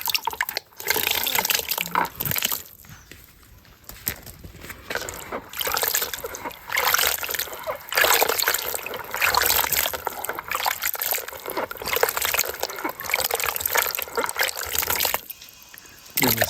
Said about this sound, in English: So now we're just washing them.